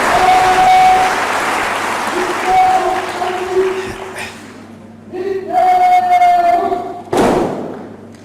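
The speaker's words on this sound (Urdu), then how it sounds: "بھرپور تالیاں لیڈیز اینڈ جینٹلمین" Audience applause at a merit celebration ceremony in Muzaffarabad, where a Kashmir police guard presents a guard of honour. Steady crowd clapping runs throughout, with a loudspeaker voice and sustained tones over it and a couple of swells.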